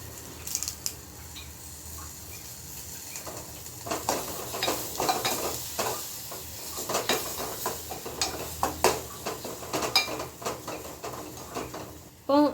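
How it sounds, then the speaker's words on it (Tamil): Curry leaves hit hot oil for a Kerala fish curry, giving a steady sizzle under scattered stirring clinks and scrapes of a utensil against the pan, ending with a sharp louder burst. "இப்போ வந்து கர்லீஃப் வந்து ஆட் பண்ணிட்டேன்."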